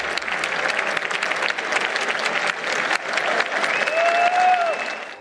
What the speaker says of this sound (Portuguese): O presidente do TSE, ministro Alexandre de Moraes, foi aplaudido de pé ao assumir o lugar dele para comandar a cerimônia.